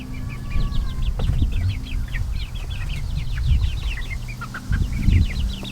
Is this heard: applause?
no